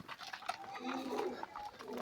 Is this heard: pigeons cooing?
yes